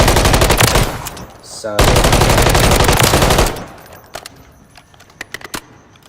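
The MCW rifle in Call of Duty Warzone on Rebirth Island fires long, loud, rapid automatic bursts, broken by a short pause, then trailing off into scattered clicks and handling sounds, with a brief spoken word.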